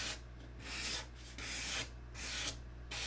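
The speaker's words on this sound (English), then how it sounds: "I take a piece of sandpaper in my hand like this, and I cup my fingers and make a small indent like that, and I go around" Sandpaper cupped in the fingers and worked by hand around the edges of tips, producing four or five close, rasping strokes with short gaps between them.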